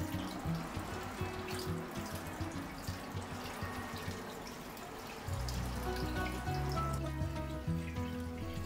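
Water runs and splashes continuously from a tap while an aquarium tank for goby fish is being cleaned at home, a close trickling stream that grows fuller and heavier partway through.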